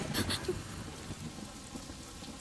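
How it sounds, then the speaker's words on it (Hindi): Rain falls steadily as a soft, diffuse patter. A few brief louder splashes stand out near the start and the end. "बारिश हो रही है"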